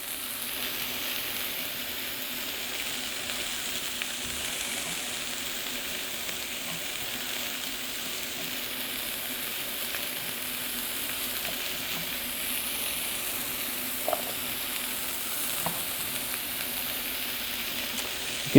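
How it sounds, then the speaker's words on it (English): Mushrooms and onions fry in a pan for a frittata, a steady soft sizzle and hiss running throughout with a couple of faint clicks of a utensil, fairly quiet and without talk. "You can hear our mushrooms and onions are cooking away."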